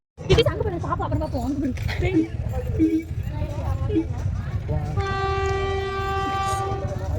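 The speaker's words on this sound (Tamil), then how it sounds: "ட்ரெயின் வந்துருச்சுங்கண்ணா" A train rolls into a station near Malampuzha, Palakkad, Kerala with rumbling and clatter, then a long steady horn sounds near and loud, while people talk over the noise.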